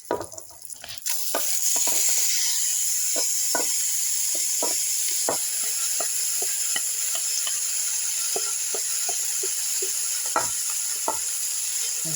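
Soaked rice frying in a pot with oil for Iraqi biryani gives a steady loud sizzle throughout, broken by repeated scraping stirs and clicks of the spoon, with a brief clatter at the start.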